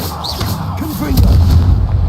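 A Confringo blasting spell goes off in Hogwarts Legacy, a loud booming explosion with a deep rumbling low end that swells and holds near the close, over game sound effects.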